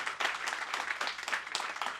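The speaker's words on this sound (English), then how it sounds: "Clap it up for black love." Applause fills a comedy special's live theatre audience, with a warm, continuous patter of many hands at moderate distance and swelling bursts throughout, free of speech.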